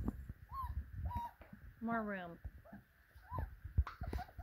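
Four-week-old puppies whimpering and yelping in short high whines, several close cries with one longer wavering squeal, while a person speaks softly among them.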